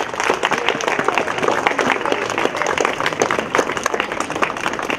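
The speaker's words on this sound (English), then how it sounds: "The applause." An audience applauds at a school robotics exhibition, with dense, steady clapping from a crowd running throughout.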